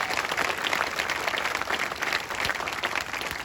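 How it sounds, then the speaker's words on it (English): Crowd applause at an evening vigil, a sustained burst of clapping at moderate level that stays even throughout, with a few louder individual claps standing out near the end. "Y'all can clap that up."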